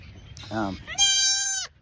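Young female goat bleating on a farm where kids are handled daily, two close bleats in a row, the first short and low, the second a longer, higher, strained cry.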